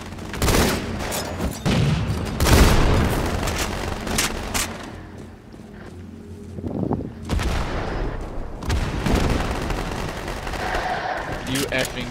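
Rocket explosions in the Halo 2: Anniversary match on the Beaver Creek map, heavy booming blasts mixed with rapid gunfire, loud and nearly continuous through a chaotic firefight.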